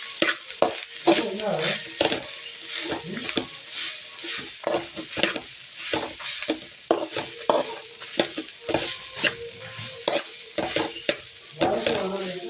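Patrode being fried in a pan with busy stirring: repeated scraping and clattering strokes of a spoon against the pan over a soft, steady sizzle, close and fairly loud throughout.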